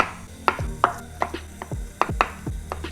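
A knife slices a block of tofu into strips on a cutting board, making about eight crisp, evenly paced knocks close by with a soft thud after each stroke, and no talking.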